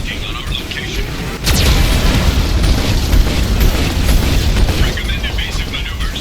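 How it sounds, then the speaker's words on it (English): Geth cannon fire in Mass Effect 2, a heavy sustained boom that starts suddenly after a quieter opening and rumbles loudly and continuously through the rest of the game scene. "Warning, Geth cannon is locking on our location."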